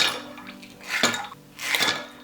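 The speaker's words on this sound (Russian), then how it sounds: "Я налила 200 мл и добавляем лед." Ice cubes dropped into a container of water in a home kitchen while preparing chilled water for manty dough: two or three close clattering bursts of ice knocking against the vessel, with no talk.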